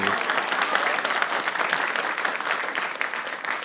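An audience at a Kazakh-language stand-up comedy show claps in a dense, sustained burst of applause that carries on evenly for several seconds without fading.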